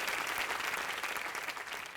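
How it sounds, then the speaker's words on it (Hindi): An audience claps together in a sustained burst of applause at a televised Hindi game show, steady and fairly loud throughout without voices. "एक बार इनके लिए जोरदार ताली बजा दीजिए"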